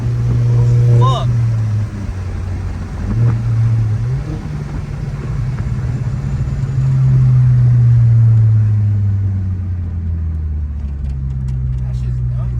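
An Audi A4 with its muffler deleted lets out a loud, deep exhaust rumble that swells and holds for several seconds close by, while a voice is briefly heard over it.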